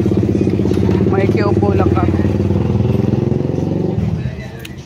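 A motorized tricycle's engine putters along with a throbbing, rattling drone that fades as it moves off, while a person talks over it.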